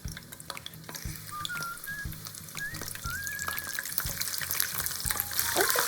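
Steady sizzling and crackling of paprika frying in plenty of hot oil in a frying pan, with occasional sharp pops and faint clinks, no talking.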